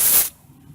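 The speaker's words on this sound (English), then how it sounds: "spray some penetrating oil in here and let it sit for a minute" Penetrating oil sprayed from a can onto a car strut during a coilover install: a single short hissing burst lasting about a third of a second, close up, followed by quiet.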